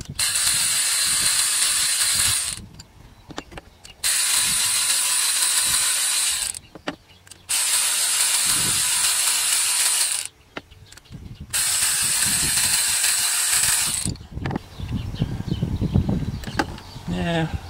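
A 3/8-drive ratchet fitted with a 1/4-inch adapter and 10mm socket loosens a spark plug on a Chevy HHR 2.4L engine, giving several long, close bursts of rapid clicking separated by brief pauses, followed by softer handling and rattling of parts.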